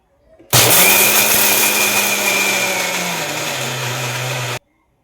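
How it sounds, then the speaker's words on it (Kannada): A kitchen mixer grinder grinding spices for chutney powder starts abruptly with a loud, steady motor whine. It runs close and alone for about four seconds, its pitch dropping slightly before it cuts off sharply. "ಜಸ್ಟ್ ಮಿಕ್ಸಿಗೆ ಹಾಕ್ಕೊಳ್ಳೋಣ ಇವಾಗ"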